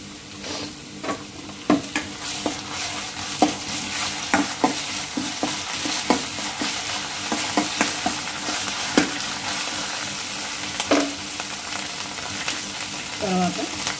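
Onions, green chillies and ginger-garlic paste sizzle steadily in a pan, with repeated sharp clinks and scrapes of a spoon stirring throughout, close and moderately loud with no talking.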